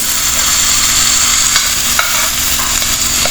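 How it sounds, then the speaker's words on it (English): Two thinly sliced onions, white and red, sauté in a pan with a loud, steady sizzle, broken by a few sharp scrapes and taps of a stirring utensil. "So we just keep sauteing till the onion is limp and becomes brownish in color."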